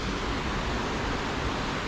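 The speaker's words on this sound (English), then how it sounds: "the way the water just goes along and drops off into that massive void in planet Earth" River water from the River Isla in Scotland pours over a waterfall, a loud, continuous broadband roar with no breaks and no voices.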